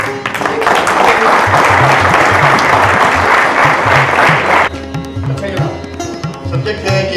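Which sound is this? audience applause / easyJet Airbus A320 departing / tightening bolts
audience applause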